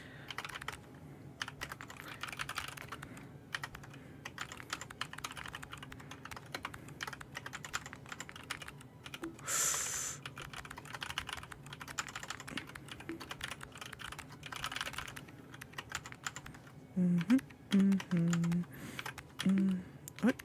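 Someone types steadily on a computer keyboard while coding in an IDE, a continuous run of close, irregular key clicks, with low murmured sounds near the end.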